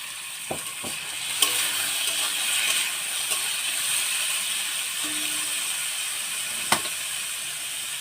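Potatoes frying in a pan as part of a potato recipe with garlic paste, a soft steady sizzle with a few sharp clinks of a spatula against the pan; no one talks.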